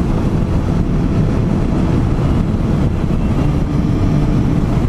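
A Suzuki Bandit 650cc motorcycle engine rumbles with a deep, steady, close-up roar that holds constant and loud without any voices over it.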